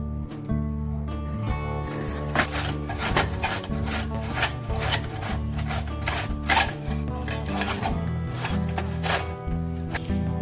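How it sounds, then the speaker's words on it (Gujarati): Peeled Rajapuri mangoes are rubbed hard against a grater in quick, regular rasping strokes that repeat steadily and close by throughout, with no voices. "હવે આપણે કેરીને છીણી દઈશું."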